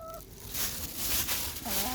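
Backyard chickens cluck and croon softly nearby in a few brief, quiet calls over a faint rustling background.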